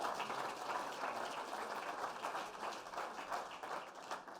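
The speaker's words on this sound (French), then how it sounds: "je voudrais qu'on s'applaudisse" Event audience at an ocean-themed evening gala applauding a presentation slide, a fairly faint but continuous patter of many hands clapping with no talk over it.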